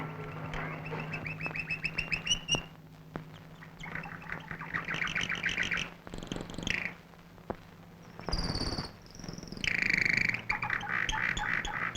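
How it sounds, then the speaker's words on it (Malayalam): A guard parrot chirps in bursts of high, shrill calls with short pauses between them, fairly close and clear over a quiet background, with no one talking. "ഇന്നെന്താ പതിവില്ലാതെ കാവൽ തത്ത ചിലക്കണത്?"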